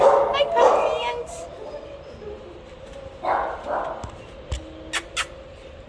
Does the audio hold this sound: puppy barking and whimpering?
yes